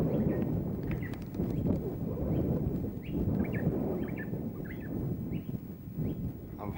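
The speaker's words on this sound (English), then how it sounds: "I hope you can hear the bird life." Wild birds calling near recently cleared mangroves, short chirps and whistles scattered through a steady low rumble of wind and ambient noise.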